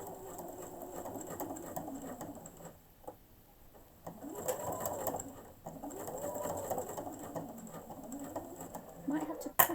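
A sewing machine stitches across the pleats of a fabric face mask near the elastic, running in steady rapid bursts with short pauses between, close by, and a person talks quietly over part of it.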